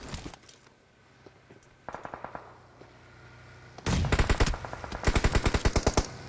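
M4 rifle gunfire in the mobile game PUBG Mobile during a squad fight. Bursts of rapid automatic shots start faint and distant, then grow louder and closer in repeated volleys.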